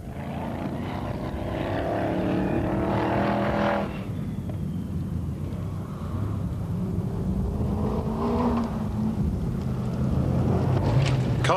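A 4.2-litre Lamborghini-bodied rally car is driven flat out on a Welsh hill rally, its engine a loud, continuous roar that dips briefly and then surges again at close range.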